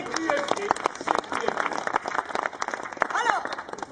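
Applause breaks out among an audience at a Nuit de l'obscurité event in Mouscron, following a demonstration of a light-controlled lamp: a dense, steady patter of clapping for about four seconds, with voices talking over it.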